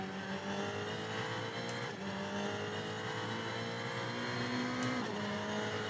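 A Ferrari 488 GT3 race car in the racing game Assetto Corsa Competizione holds a steady, bright engine drone with gear-shift pitch changes and faint tire squeal, sustained and fairly quiet with no talking.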